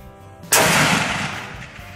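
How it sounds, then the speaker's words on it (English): A single loud, close gunshot cracks out at an outdoor shooting range, with a sharp onset and a long rolling echo that trails away; no voices are present. "Since we're at the range, I might as well have a little bit of fun. I'm gonna shoot down here."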